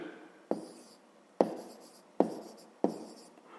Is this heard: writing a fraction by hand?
yes